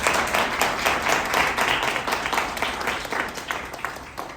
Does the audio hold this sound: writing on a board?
no